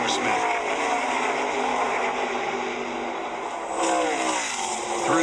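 Race trucks on a track, a loud, continuous roar of engines with rising and falling pitch as trucks pass, and a commentator talking over it.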